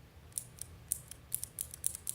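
A Cherry MX Blue mechanical keyboard switch in a Kingston Alloy FPS keyboard clicks repeatedly, about nine crisp, light clicks in an uneven rhythm, close and fairly quiet over a faint low hum.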